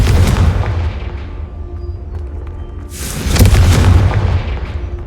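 Two booming blasts from the Confringo explosion spell in the video game Hogwarts Legacy, one at the start and a second about three seconds later, each loud and close with a rumbling decay.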